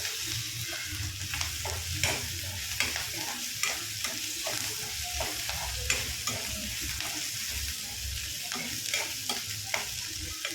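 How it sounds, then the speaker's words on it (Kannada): Pepper frying in a pan for onion chutney, a steady sizzle with repeated scraping stirs of a spoon against the pan at an uneven rhythm, close and fairly loud throughout. "ಒನ್ ಟೀ ಸ್ಪೂನ್ ಪೆಪ್ಪರ್ ಹಾಕೋತಾ ಇದ್ದೀನಿ ಹಾಕ್ಕೊಂಡು ಸ್ವಲ್ಪ ಫ್ರೈ ಮಾಡ್ಕೋಬೇಕು"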